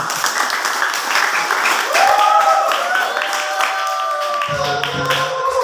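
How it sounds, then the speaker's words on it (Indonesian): A group of classmates in a classroom exam session claps together in a steady burst of applause, with some voices and tonal sounds mixed in. "kasih tepuk tangan teman-teman"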